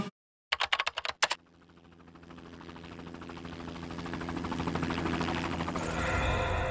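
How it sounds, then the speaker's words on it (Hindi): A few sharp clicks come first, then a low rotor-like rumble and whirr rises steadily, growing louder as it seems to approach. "ये हेलीकॉप्टर की ही आवाज है"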